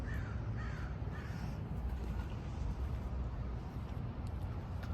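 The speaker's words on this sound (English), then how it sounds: "There's a loud bird in the background." Several raspy crow caws repeat at a distance over a steady low hum of background noise from a pressure washing truck setup.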